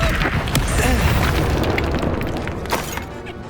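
Blasting spell explosion in the Hogwarts Legacy game, a heavy booming burst up front that rolls off into debris crackle and a fading rumble, with a brief voice near the start.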